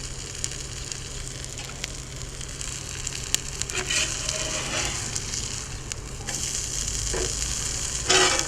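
Shredded hash brown potatoes fry on a new cast iron griddle with a steady, close sizzle and crackle, and a few soft scrapes and taps come through now and then.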